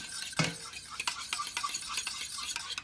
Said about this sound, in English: We're just gonna mix it together, get it all mixed up.